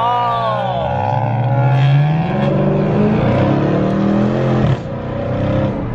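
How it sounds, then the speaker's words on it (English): A Dodge Challenger with a 5.7 HEMI V8 revs hard, its pitch sweeping up and down through gear changes, with a sharp backfire pop near the end, loud and close. "And it got a, like, a lot of backfire, like, when you shift."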